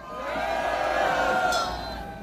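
A crowd at a Korean patriotic political rally cheers and shouts to welcome a law professor to the stage, a loud sustained roar of many voices that swells and then eases.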